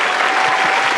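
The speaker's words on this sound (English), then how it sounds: "I am going to have my clap button" A canned applause effect fired from a clap button, a steady burst of dense clapping lasting about a second, loud and close.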